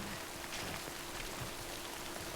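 Steady, dense rain hisses evenly throughout in the video game Death Stranding, a continuous broadband wash with no voices over it.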